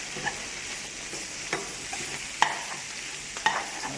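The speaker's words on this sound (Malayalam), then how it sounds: "എന്നിട്ട് നല്ലോണം ഇളക്കി കൊടുക്കുക" Grated coconut is stirred in a frying pan with bitter gourd stir-fry, a soft continuous sizzle broken by a few sharp scrapes and taps of the spoon against the pan.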